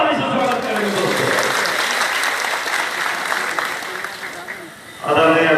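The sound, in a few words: audience applause welcoming speaker at rally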